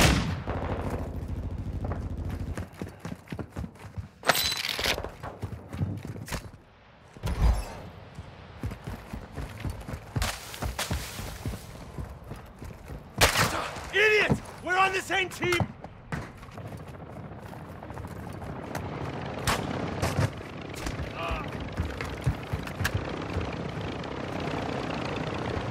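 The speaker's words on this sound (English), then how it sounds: "You are taking effective fire." Gunfire in the video game Call of Duty DMZ on the Ashika map, made up of scattered sharp shots and short bursts, some loud and close and others distant, over a constant rumbling background across a long stretch.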